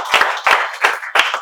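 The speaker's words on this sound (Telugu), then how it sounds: "Very good. క్లాప్స్." A few people clap hands in a short, quick rhythm of about six sharp, close claps in a quiet room.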